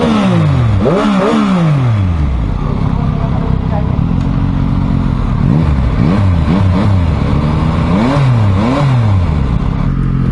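A 2022 Yamaha MT-09 V3 motorcycle engine starts and revs repeatedly, loud and close, with rising and falling throttle blips over a rough idle.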